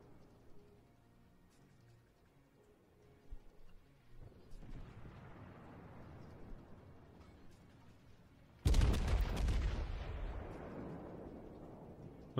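Heavy battleship guns fire in the naval game World of Warships, with a low rumble building before one sudden huge blast that rolls and decays over several seconds, loud and without talk.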